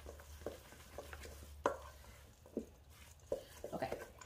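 Wilted kale stirred into warm pasta, soft scraping and wet clinking strokes of a utensil against a pan or bowl in irregular bursts, close and quiet, over a low background hum.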